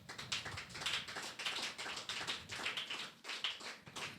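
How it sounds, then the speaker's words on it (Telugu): A church congregation at a Sunday worship service claps hands loudly and steadily, a dense, continuous run of overlapping claps filling the room. "గట్టిగా చప్పట్లు కొట్టండి."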